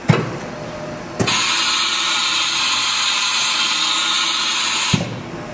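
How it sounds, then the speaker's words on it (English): A 2002 Haas TM-1 CNC mill runs a tool change: a loud, steady mechanical whir lasting several seconds, bracketed by sharp clunks at start and finish, with a brief knock just before it begins. "Next, we'll go ahead and simulate a tool change. And we'll go ahead and do it again."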